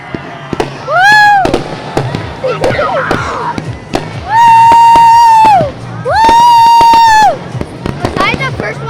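Fireworks boom and crackle outdoors at an Egg Harbor City display, with loud sustained crowd whoops and cheers rising twice in long swells between the sharp bangs.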